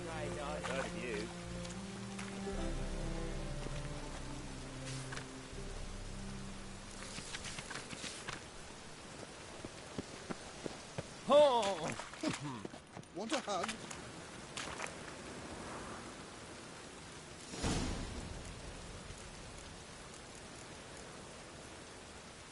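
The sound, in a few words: rain in the video game The Witcher 3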